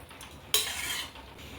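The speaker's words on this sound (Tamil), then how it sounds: "கீரையை சட்டிக்கு மாற்றிக்கலாம்" Cooked greens being tipped from one vessel into a cooking pot, a sudden scrape and clatter of a spoon against metal lasting about half a second, close and moderately loud.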